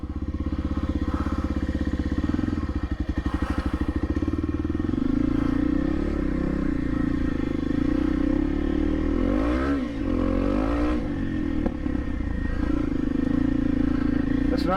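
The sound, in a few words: motorcycle riding on a muddy trail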